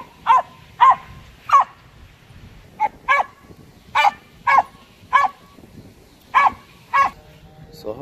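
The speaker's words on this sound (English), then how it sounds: "I'm going to let you bark for a little bit." A dog barks at a squirrel in a steady run of about a dozen sharp, evenly spaced barks, loud and close, with short quiet gaps between them and no talking.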